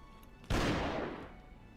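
A single loud gunshot in the online werewolf game Werewolf Kill bursts out and decays over about a second, with no talk around it.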